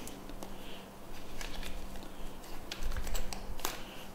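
Soft, rapid papery flicking and tapping of tarot cards being shuffled, close by and fairly quiet, with no talking.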